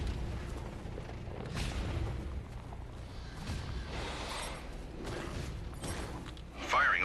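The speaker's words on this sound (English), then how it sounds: "Firing orbital cannon. Please clear the area." An orbital cannon fires in The Cycle video game, heard as deep booming blasts and rumbling bursts spread across the span, with a synthetic announcer voice briefly heard near the end.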